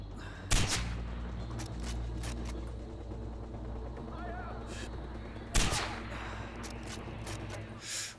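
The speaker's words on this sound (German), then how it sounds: "Ich habe irgendwie da mein leises Gewehr" Silenced rifle gunshots in Far Cry 4: two short, muffled shots about five seconds apart, set against a steady low hum and background game ambience.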